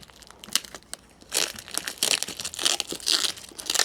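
Plastic packaging is torn open by hand without scissors, giving a close series of crinkles and sharp ripping bursts that start sparse and grow busier and louder toward the end.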